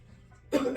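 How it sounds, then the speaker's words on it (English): A man coughs during an arm workout at the gym. After a quiet half second there is one sudden, close, harsh cough burst that carries on into a rough second hack. "I can't stop coughing"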